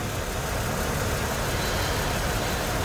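A car engine idles after a half engine overhaul with new engine and transmission mounts, a steady, even low rumble that stays constant for about three seconds with no one speaking.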